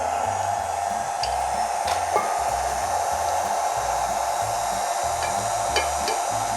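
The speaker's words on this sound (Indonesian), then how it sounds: "Kita mix lagi, sambil dimasukin telurnya slowly." An electric mixer whirs steadily through a mac and cheese muffin batter as eggs are added, a constant close motor hum with faint clicks and knocks against the bowl.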